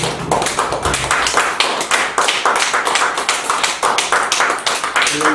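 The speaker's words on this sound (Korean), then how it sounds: "하늘의 하나님께 영광의 박수 올려드립니다" A church congregation clapping together in rhythmic unison, loud close hand claps repeating at a brisk steady beat throughout, with no speech over them.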